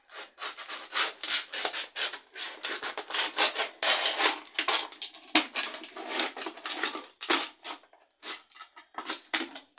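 A plastic bottle has its bottom cut off, giving a long run of close, loud rasping and sawing strokes in irregular bursts, with no talk over it.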